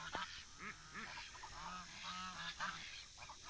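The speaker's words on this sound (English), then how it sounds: "They're African geese, and the 2 I hatched were Chinese geese." African and Chinese geese honk repeatedly in a nearby flock, loud overlapping nasal calls in an irregular, busy rhythm with no talking.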